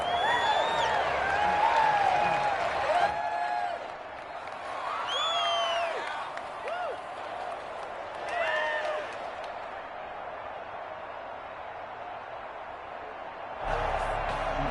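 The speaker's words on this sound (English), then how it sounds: "the crowd getting into it as we come up on a big 3rd down" A football stadium crowd at a game against the Ravens roars and cheers in a sustained wash, with whoops and whistles rising and falling, before the noise drops and then swells again near the end.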